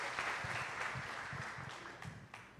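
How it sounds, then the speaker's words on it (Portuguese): Congregation clapping together during a church service, a fairly faint, brief patter of applause with a slightly uneven rhythm and some low thumps underneath. "Nós podemos aqui aplaudir juntos a Jesus, porque por causa dele somos salvos"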